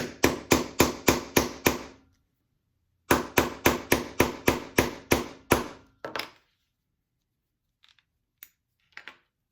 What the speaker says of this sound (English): And hammer that down.